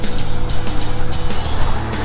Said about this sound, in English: It's nice that I can see a car coming.